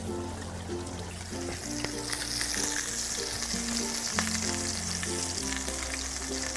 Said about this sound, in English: Now this is gonna sear for about 3 minutes on this side